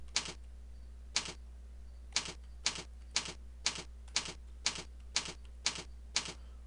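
Roughly eleven crisp single keypresses on a computer keyboard, evenly spaced about half a second apart, as numbers are entered into a Microsoft Word document; close and clear over a low steady hum, with no talking.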